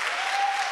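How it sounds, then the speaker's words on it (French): Church congregation applauding during a worship service, a short steady burst of clapping, even and moderately loud. "Applaudis encore pour Jésus."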